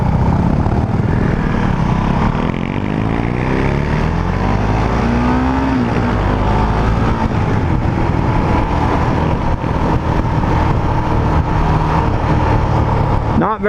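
A 2019 Husqvarna 701 Vitpilen single-cylinder motorcycle engine winds down as the rider rolls off, a loud continuous drone sliding lower in pitch, with wind rush throughout.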